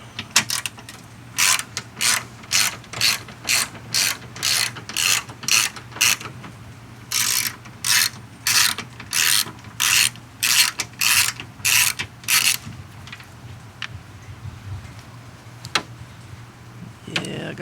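A ratchet wrench fitted with doubled-up extensions loosens a low headlight-assembly bolt on a Toyota Avalon. It clicks in fast, loud, steady bursts for about twelve seconds, then gives way to faint handling noise and a few scattered clicks.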